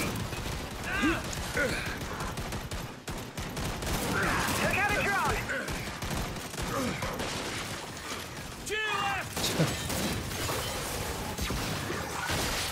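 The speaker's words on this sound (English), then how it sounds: "He like exploded as he climbed over." Gunfire and explosive bursts from Gears 5 Horde mode as an enemy blows up while climbing over cover, dense crackling shots and impacts throughout, with a player talking over the action.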